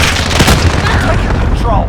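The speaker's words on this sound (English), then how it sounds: "Allied cluster strike inbound." A cluster strike in Call of Duty, a first-person shooter game, lands as a rapid string of loud, close booms and blasts that rumble together for under two seconds.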